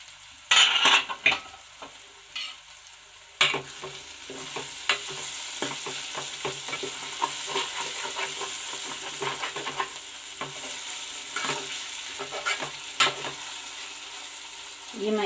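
Bitter gourd cooking in a pan over a low flame for a sour tamarind curry, heard as a soft steady sizzle. A spoon scrapes and stirs in irregular taps, with sharper clinks early on.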